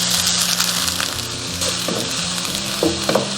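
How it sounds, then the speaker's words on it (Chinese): Beef cubes and onion sizzle hard in a hot oiled wok after a splash of cooking wine, a steady loud frying hiss with occasional scraping stirs of the spatula, no talking. "炒至变色以后，我们喷1圈料酒"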